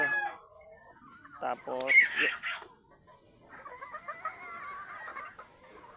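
Boston Gold sweater gamefowl roosters give one loud crow with clucking around it, then softer, farther crowing and calls, while people talk nearby.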